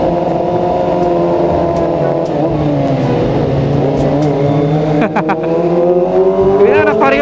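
Honda Vario motor scooter engine revving up and down on a road, its whine rising and falling under continuous nearby talk from riders, with other passing traffic noise around it.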